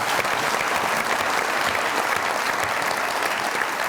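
Studio audience on a Pakistani comedy talk show bursts into sustained, dense applause, steady and loud throughout with no talking over it.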